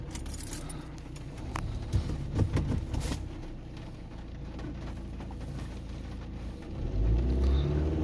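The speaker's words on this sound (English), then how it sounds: "We'll start the vehicle up." A Ford Transit van with a blocked DPF is started, a keys jangle near the ignition, then the engine turns over into a low rumble that swells near the end, with no talk over it.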